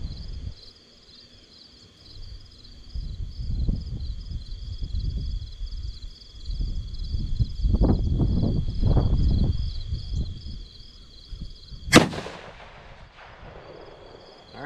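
One sharp 6.5 Grendel rifle shot firing a 120gr Nosler Ballistic Tip, loud and close with a short ringing tail, over an outdoor background of steady insect chirping and low wind rumble.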